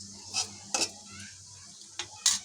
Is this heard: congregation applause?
no